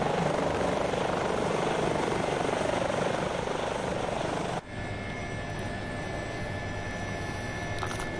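Helicopter rotor and turbine drone from a flight simulator during a Croatian search-and-rescue training flight, loud and steady throughout with a sudden drop in level partway as the cabin tone shifts.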